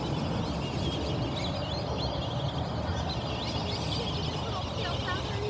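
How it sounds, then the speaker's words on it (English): A dense flock of whistling ducks calls continuously at a distance, a chorus of high whistling notes layered over a steady noisy background. "All those whistling ducks are out there."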